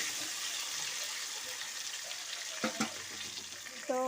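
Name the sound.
potatoes frying in a pan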